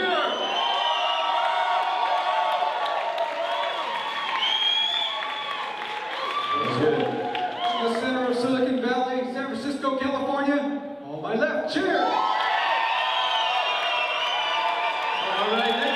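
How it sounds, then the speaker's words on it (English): Loud audience cheering and whooping at a live startup pitch showcase, a dense crowd roar with shouts and applause that swells and dips midway, with a voice calling out over it. "cheer! Cheer!"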